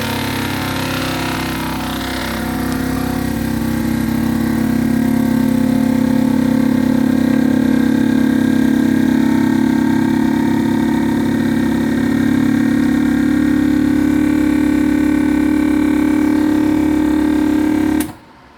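An Avid Armor vacuum sealer pulls air from a food bag for freezing: a loud, steady motor hum that drones for about seventeen seconds and then cuts off abruptly as the seal finishes.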